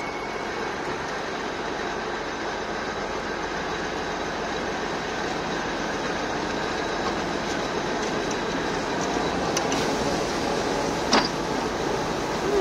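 V10C locomotive pulling away along a snow-cleared track, a steady rumble with rhythmic wheel clatter and a brief metallic squeal near the end, no voices.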